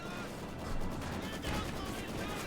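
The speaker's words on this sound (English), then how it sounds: "Maxim firing away." A Maxim machine gun fires in the strategy game Company of Heroes 2, a dense rattle of rapid bursts mixed into a busy battle soundscape with other distant gunfire and explosions under a commentator's voice.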